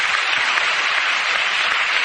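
A church congregation claps in steady, even applause that fills the room throughout, loud and continuous with no voices breaking through.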